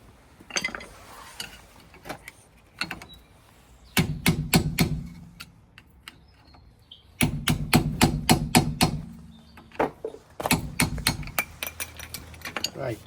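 Metal tapping on a wheel bearing dust cap in a garage, with bursts of rapid sharp clinks and knocks in three clusters separated by quieter pauses and scattered single taps.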